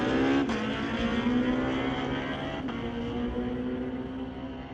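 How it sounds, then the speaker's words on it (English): Two Hayabusa motorcycles drag racing side by side at a street-legal drag night, engines roaring loud and steady with rising pitch as they accelerate down the strip, no talking. "Pair of Habusas. Corey Craig and Dwayne Stevens. These are fast bikes."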